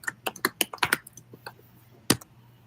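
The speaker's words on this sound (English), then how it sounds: "What is he typing?" Computer keyboard keys clack in a quick burst of close, crisp taps, then pause before a final louder keystroke and a couple of lighter clicks.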